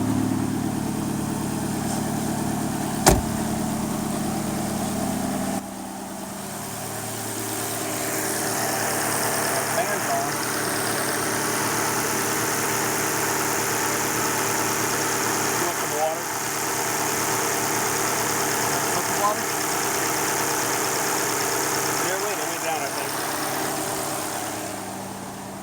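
A 2013 Dodge Dart with the 1.4 turbo engine idles steadily while warming up with the hood closed, a continuous mid-pitched hum with faint vibration and brief clicks, heard close throughout.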